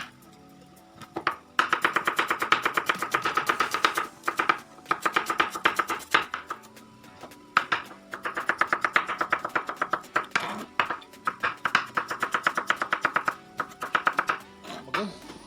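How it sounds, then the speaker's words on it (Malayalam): A knife taps rapidly and steadily on a board, finely chopping onions and tomatoes for Kerala-style beef biriyani, in close, fast bursts separated by short pauses. "ഉള്ളി, തക്കാളിയൊക്കെ നൈസായിട്ട് നമുക്കൊന്ന് അരിഞ്ഞെടുക്കാം ആദ്യം."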